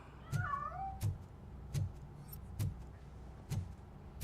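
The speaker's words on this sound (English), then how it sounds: "That cat must be hiding inside." A cat meows a few times in RoboCop: Rogue City, rising and falling calls early on, while sharp clicks or taps repeat at a steady beat under low background hum.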